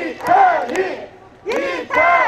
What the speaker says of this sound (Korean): 다시 한번 우리 이탄희 의원님을 크게 한번 연호를 제대로 외쳐야 됩니다